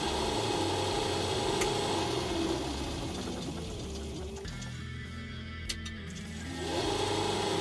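A knife grinder's electric motor, recently fitted with new bearings and run at low speed, hums steadily and fairly loudly with a smooth, even drone that dips slightly midway, then swells again.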